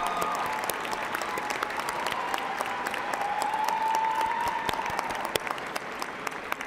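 Graduates and guests at a college of health sciences convocation giving a sustained round of applause, dense steady clapping from a large crowd heard at moderate distance.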